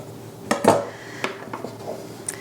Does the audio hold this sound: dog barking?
no